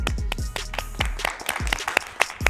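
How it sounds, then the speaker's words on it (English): Applause for the contestants of an art school competition, a few scattered hand claps and sharp knocks mixed with low thumps, brief and uneven rather than a full crowd ovation. "Round of applause for all of them."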